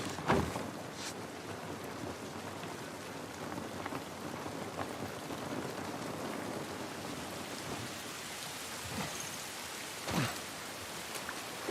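Rain falling in the video game The Last of Us, a steady soft patter and hiss on surfaces, fairly quiet and even, with a couple of brief louder splashes or thumps near the start and toward the end.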